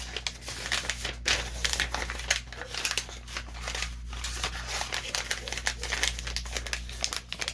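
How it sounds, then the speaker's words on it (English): A paper invoice from a toy-store parcel is crumpled by hand, giving dense, continuous crinkling and crackling for several seconds, close and fairly loud over a low steady hum, with no voices. "I'm crumpling up like the invoice"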